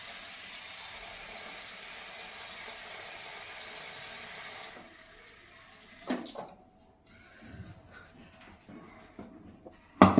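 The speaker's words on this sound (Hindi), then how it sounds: "मैं मेथी में पानी करके लिए आई।" Tap water runs into a kitchen sink while fenugreek leaves are washed, a steady close hiss for about five seconds before it stops, leaving a few soft clatters and handling noises.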